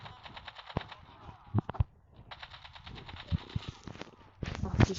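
Gunfire in the mobile video game Call of Duty: rapid bursts of automatic shots crackle in clusters with brief pauses, mixed with sharper single shots and a player talking over the action.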